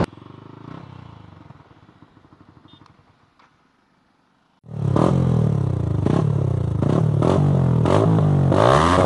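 A fully modified Yamaha R15 V3 motorcycle at riding speed: a low, muffled rumble for the first few seconds, then a sudden, loud, sustained roar of engine and wind that rises and falls in pitch until the end.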